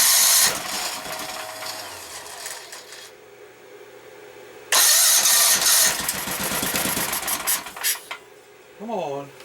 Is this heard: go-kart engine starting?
yes